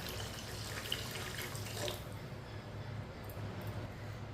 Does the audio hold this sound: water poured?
yes